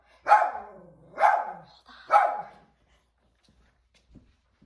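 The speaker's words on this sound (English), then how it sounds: "And that is my dog barking right now in the middle of the video." Three loud, evenly spaced barks from a nearby pet dog, each fading into a short tail, followed by near silence.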